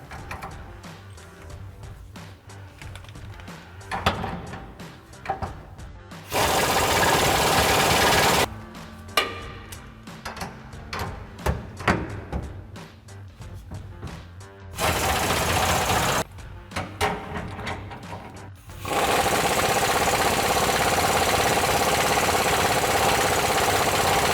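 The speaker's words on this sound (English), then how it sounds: "grab our 24mm sockets. Let's tighten these down." Air-tool bursts tighten bolts on a rear off-road bumper of a 2021-2023 Ford F-150 with a 24mm socket, several loud sustained whirring runs separated by quieter rattling pauses.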